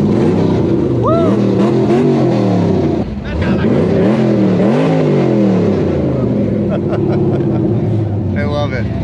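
A car engine revs loudly through an upgraded aftermarket exhaust at an outdoor event crowd gathering in Austin, Texas, rising and falling in throaty pulses throughout, with people talking and cheering over it.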